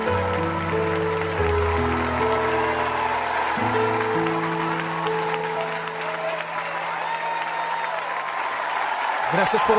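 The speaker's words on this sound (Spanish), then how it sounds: "Fuerte aplauso." A congregation at a Catholic worship program led by a Franciscan friar applauds in a steady, continuous wash beneath sustained keyboard chords, holding at an even level for nearly ten seconds.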